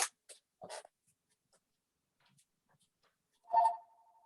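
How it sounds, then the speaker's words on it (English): A mobile phone sounds in a quiet room during a new member orientation meeting: a few faint clicks, then one short tonal ring near the end. "Just a second, I've got to turn off my phone."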